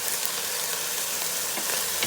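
Garlic frying in a Power XL cooker, a steady close sizzle with a faint stir near the end and no voices.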